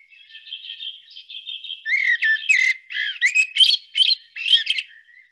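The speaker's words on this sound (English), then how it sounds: "the blackbird, for me, has this beautiful kind of fluty song, very measured" A recording of a blackbird singing its fluty, measured song, clear whistled phrases building into a louder, more varied run of notes with short gaps between them, heard alone without talk.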